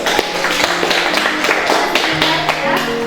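A class in a group guidance lesson breaks into applause, a steady, loud patter of many hands clapping nearby for about three seconds with no talking.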